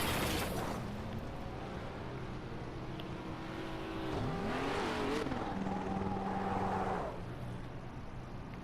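Revving car engine from a racing video game with an Acura being tested, rising and falling through several pitch sweeps and a steady high whine over a constant low roar, no talk.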